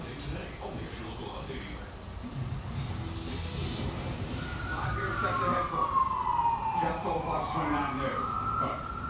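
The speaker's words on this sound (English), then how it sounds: "you had sirens, police sirens or ambulance sirens taking over your live report" A siren rises and wails over continuous background talk and traffic noise, growing louder in the second half.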